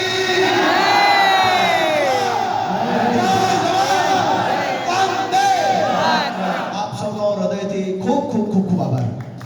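A large rally crowd at a farmers' election gathering roars back a patriotic slogan response to a leader's chant, many voices shouting together loudly and near for several seconds before the chorus breaks into scattered cheers and calls.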